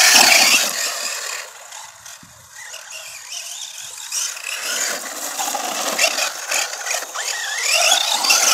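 Horizon Hobby Force Outbreak 4WD RC monster truck on a 2S setup with an Arrma BLX brushless motor, whining and surging as it runs off-road, rising and falling in pitch, moderately close throughout with no talking.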